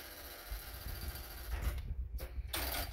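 A Consew 2206RB industrial sewing machine runs, its mechanism whirring and ticking steadily at a quiet, close level, with a few brief louder bursts toward the end.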